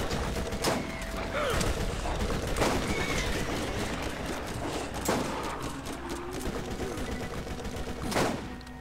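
Gunfire in Borderlands co-op in Skag Gulley, a steady stream of shots with several sharper, louder cracks standing out at irregular intervals over dense background game noise.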